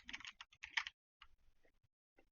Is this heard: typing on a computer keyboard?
yes